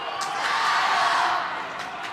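A table tennis match crowd lets out a brief swell of cheering and excited murmur that rises and fades over about two seconds, moderately loud with no clear talk on top.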